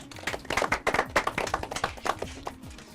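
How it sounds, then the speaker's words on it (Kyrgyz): A small audience at a quiz game show gives a burst of hand clapping, uneven and fairly close. It swells quickly, then thins out toward the end, with no voices over it. "Бир кол чаап коебуз."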